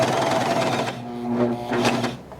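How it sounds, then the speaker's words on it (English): Bernette B42 coverstitch machine stitching fabric, a fast even mechanical whir that stops abruptly near the end of the fabric, followed by a couple of short bursts, with a voice talking quietly over it. "I'm going to come to the end of my fabric and I'm going to show you how we're going to get off of this fabric"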